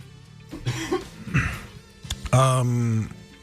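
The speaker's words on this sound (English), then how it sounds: "You okay with that cough there?" Several harsh, dry coughs from an adult man, bursting out one after another at close range, followed by a long rasping throat-clearing sound in an indoor talk setting.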